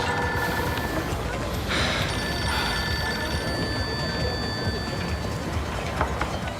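A telephone rings at a welcome party: an electronic ringing pattern repeats in short bursts over a noisy, crowded background with voices.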